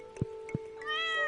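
A cat from the Stardew Valley video game gives two short chirps, then a longer rising meow, clear and close over a steady tonal game backdrop.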